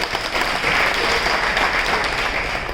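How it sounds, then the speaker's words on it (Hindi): Brief burst of steady audience applause at a business training seminar in Gurugram, dense clapping from a seated crowd filling the whole moment. "जोरदार तालियां होनी चाहिए"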